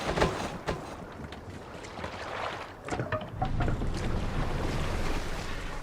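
A Viking longship sails the open sea in the video game Assassin's Creed Valhalla. Steady wind and rushing waves wash continuously against the hull throughout, close and full, with no voices.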